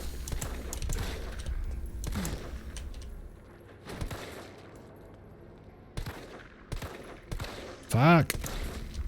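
Gunshots in a video game, scattered sharp cracks at uneven intervals, some loud and some softer, with someone talking between them.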